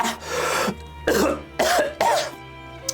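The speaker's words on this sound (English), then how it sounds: "How long have you had that cough?" A man's harsh, rasping coughing fit in a dramatized reading, several close, loud hacking bursts spaced under a second apart, ending in a faint wheezy breath.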